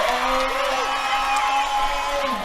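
Small Southern Peninsula crowd at a women's basketball grand final, cheering and whooping in a steady, sustained roar, with a commentator's voice running through it.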